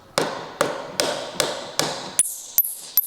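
A hammer strikes the axle shaft of a Vespa P200e engine during teardown, with the axle nut threaded on. Eight sharp metallic taps land at an even pace, each with a short ringing decay.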